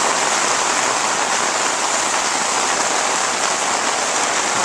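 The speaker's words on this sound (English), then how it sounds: "Obviously, it's more water than these gutters can handle." Heavy rain overflowing gutters and running off a patio, a loud, continuous close hiss of falling and splashing water without pause.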